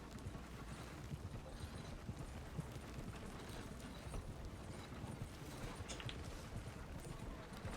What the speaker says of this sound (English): No, you're gonna hit my horse.